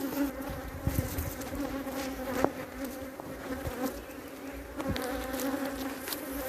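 Dense, agitated buzzing of many honeybees swarming at a hive under threat from giant hornets, a continuous droning hum with occasional louder close passes and soft knocks, no voices.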